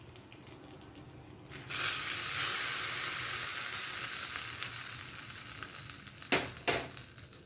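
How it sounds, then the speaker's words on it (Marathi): Cumin, mustard seeds, curry leaves and chilli are dropped into hot oil for a dhokla tempering. They set off a sudden loud sizzle that settles into a steady crackling hiss, with a couple of clanks near the end. "जिरे, राई आणि कढीपत्त्याची पानं घातलेली आहे. त्यामध्ये थोडीशी मिरची."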